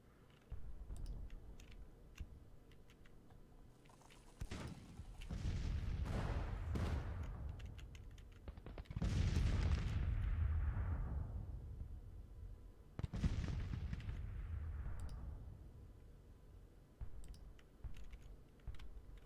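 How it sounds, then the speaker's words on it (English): Civil War artillery and gunfire in the strategy game Grand Tactician: The Civil War, with three heavy booming cannon blasts that swell and fade, scattered crackling shots and faint keyboard clicks in between. "I think the Union gunners are getting the better of Upton"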